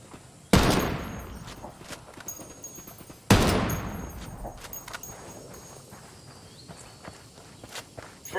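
Two sharp, loud gunshot blasts ring out a few seconds apart in a video game firefight, each trailing into a decaying echo, with faint scattered clicks and footsteps between them.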